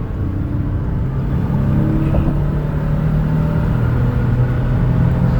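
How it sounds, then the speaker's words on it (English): A 2018 Toyota Sienna LE wheelchair-accessible van accelerates on the road, its engine a steady low rumble under constant road and wind noise from inside the cabin. "I'll give it some gas here so you can hear it accelerate."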